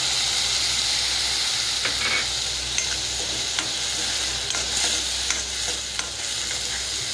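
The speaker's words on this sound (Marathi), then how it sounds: "जराशी परतून घ्या थोडंसं." Grated fresh wet coconut is sautéed with ginger, garlic and chili in a pan for a Maharashtrian tomato saar, a steady loud sizzle with sharp spatula taps and scrapes scattered throughout, no talking.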